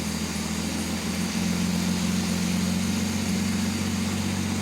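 An Austin Healey engine idles at roughly 600 to 700 RPM, a steady, low, throbbing rumble that runs unbroken and close by, with no talk over it.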